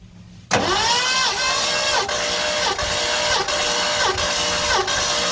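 A 1978 Ford F150 engine cranks over slowly on the starter with the gas pedal held to the floor, a loud steady whirring with a regular rhythmic pulse each compression stroke, starting abruptly after a brief quiet moment and continuing without catching.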